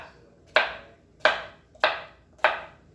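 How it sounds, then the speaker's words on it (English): A knife cuts squash into little cubes on a cutting board, four sharp, evenly spaced chops close by with quiet gaps between them. "And then you can just cut it in little cubes like that."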